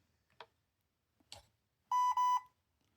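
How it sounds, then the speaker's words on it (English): An ORCA 800 brushed electronic speed controller gives two short, clear electronic beeps in quick succession after detecting full throttle, preceded by a couple of faint clicks in an otherwise quiet room. "wait for those two beeps again"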